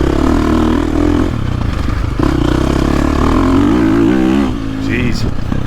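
A KTM / Gas Gas 350 four-stroke dirt bike on a motocross ride, its engine revving loud and continuous right up close, climbing and dropping through the gears with a rising whine, while a rider's voice comes through now and then.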